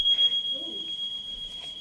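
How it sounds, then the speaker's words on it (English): A continuous high-pitched smoke alarm tone sounds steadily throughout a council meeting, loud and unbroken, with faint background murmur beneath it. "It's a smoke alarm, surely."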